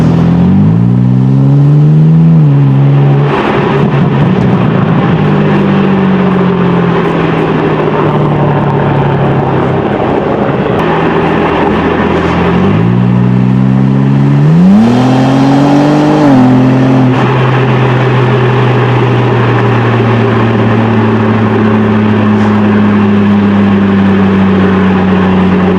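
BMW G80 M3 Competition engine recorded up close while driving, with repeated rising rev sweeps through the gears, a loud steady cruise drone in between, and no talking.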